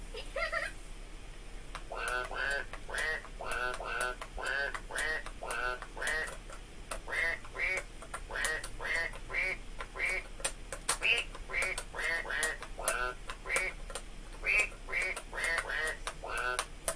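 High-pitched duck-like quacks played on a musical instrument, repeated in a steady, rhythmic series of short squawks at close range over a quiet background.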